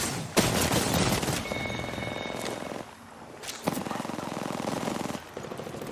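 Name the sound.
gunfire in a shooter video game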